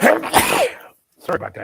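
A single sharp, close sneeze during pollen season bursts out, followed after a short pause by someone speaking briefly.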